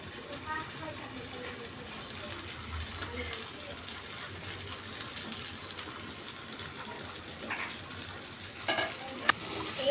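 Marinated fish fries in a pan at a family fish-fry party, giving a steady, fairly quiet sizzle throughout, with a few sharper clatters and pops toward the end.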